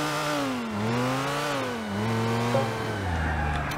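A whiny video game car engine in GTA IV: The Ballad of Gay Tony drones continuously with a buzzy, drill-like pitch that rises and falls, loud and close, with no talking.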